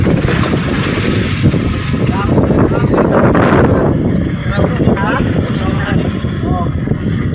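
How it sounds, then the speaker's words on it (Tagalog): Strong, gusty wind roaring over a fishing boat in rough Pacific seas, loud buffeting and rumbling microphone noise throughout, with someone talking over it. "pag maalon at mahangin, malakas yung hangin"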